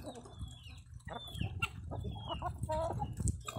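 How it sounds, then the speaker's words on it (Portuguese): Healthy hens, including large Indian Giant birds, cluck and murmur in a chicken coop: a busy, close chorus of overlapping clucks and short calls that carries on without a pause. "As galinhas tudo saudável"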